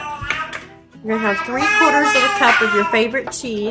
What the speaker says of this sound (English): Sorry for the baby in the background.